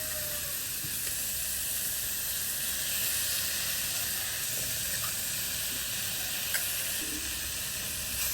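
Egg sizzles and fries with masala in a hot pan while chicken kothu roti is cooked, a steady close hiss holding throughout with only faint stirring.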